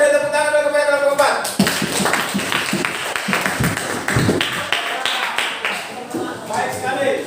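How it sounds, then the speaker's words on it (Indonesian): Students in a classroom clapping for a group of classmates, a scattered burst of hand claps that follows a voice at the start and carries on unevenly, with talk mixing in underneath. "Kita beri tepuk tangan dulu kepada kelompok 4"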